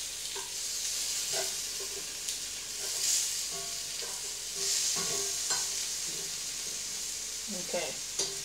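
Crunchy cannelloni fry in a pan as they are flipped and stirred: a soft, continuous sizzle with scattered light scrapes and taps from the utensil, fairly faint overall.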